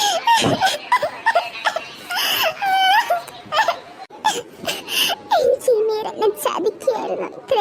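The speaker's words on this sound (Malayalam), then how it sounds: "എന്താ കുട്ടി കിടന്ന് കരയുന്ന?" A child cries and whimpers in fitful bursts amid a busy café scene, with adult voices talking over and around the crying throughout.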